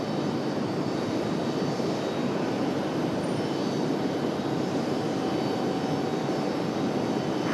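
An airliner near Raleigh-Durham airport gives a steady, broad roar of engine and rushing air that holds at an even, fairly loud level throughout, with a faint tonal whine running through it and no voices.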